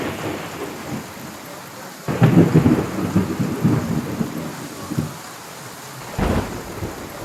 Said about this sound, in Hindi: बाहर जोरदार बारिश हो रही है